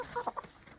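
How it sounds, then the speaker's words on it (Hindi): A Sindhi breed rooster on a farm gives a few soft, short clucks in quick succession, faint and close, with low background noise. "ये अपना सिंधी नस्ल का मुर्गा"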